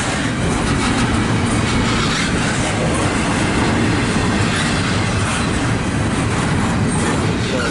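Trains passing on railroad tracks at a junction, with a freight train rolling by close and loud as a steady rumble of wheels, rhythmic clickety-clack and occasional wheel squeal throughout.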